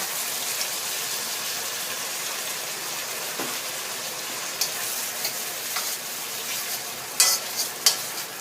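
Crispy catfish stir-fried with seasoning in a pan, a continuous loud sizzle with intermittent scraping and clacking of a spatula against the pan, close and steady throughout.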